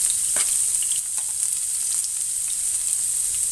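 Garlic fries in hot oil, giving a dense, steady sizzle heard up close with a few faint stirring clicks and no talking.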